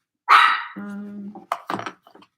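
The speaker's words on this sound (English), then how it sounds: "I'm sorry for so much barking." An agitated indoor dog gives a loud, close whining bark that stretches into a drawn-out growl-like howl, then a couple of sharper short barks trailing off.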